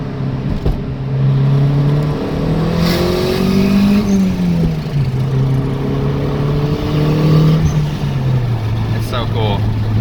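A turbocharged car with an eBay turbo kit pulls hard on a test drive, engine loud and close as it climbs through revs, with a gear change midway and continued strong acceleration; a voice speaks briefly over it.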